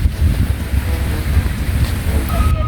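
Sea waves and wind at Hajodae Beach: a constant roar of surf with strong wind buffeting the microphone, loud and close throughout.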